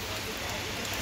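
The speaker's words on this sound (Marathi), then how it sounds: "पाऊस दिवसभर आहे." Rain falls steadily in a brief, dense and fairly loud hiss of drops on surfaces, with a faint trace of voices beneath.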